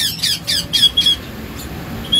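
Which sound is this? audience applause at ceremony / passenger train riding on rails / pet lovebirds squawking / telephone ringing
pet lovebirds squawking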